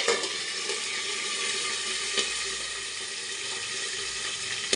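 Peanuts, curry leaves and dried and green chillies frying in a pan, giving a constant dense sizzle and crackle, even and close, with no talking.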